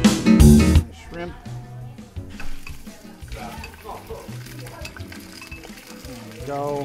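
Shrimp hit a hot paella pan with a loud burst of sizzling, then settle into a quieter ongoing fry beneath a person talking.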